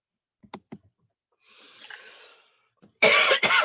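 A couple of small throat clicks, a breathy pause, then two loud, harsh coughs close to the mic at the end.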